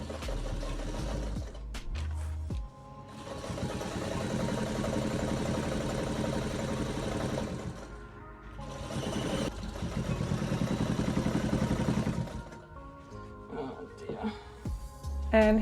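A sewing machine with a bobbin case runs steadily through fabric, its rapid mechanical stitching loud and close, with brief pauses and restarts.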